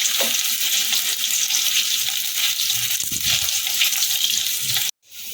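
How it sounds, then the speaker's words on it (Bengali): Steady, loud hiss of potatoes frying in hot oil, close and continuous, cutting off abruptly near the end. "আলুটা একটু হালকা করে ভেজে নেব"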